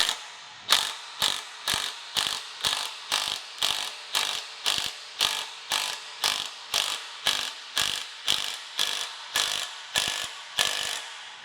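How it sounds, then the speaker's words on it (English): An impact wrench drives a rear suspension bolt on a Dana 36 rear axle during a 1957 Chevy truck restomod. Close and loud, it fires about twenty short, evenly spaced hammering bursts in a steady rhythm, with no talking. "So I'm just going to suck this in to start with the impact slowly."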